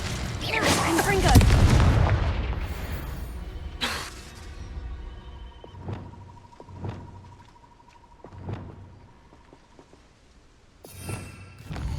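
A Confringo fire spell blast in Hogwarts Legacy erupts as a loud, close burst with a crackling, shattering tail, followed by several fainter thuds and impacts spaced out over the following seconds, with a steady game tone humming underneath.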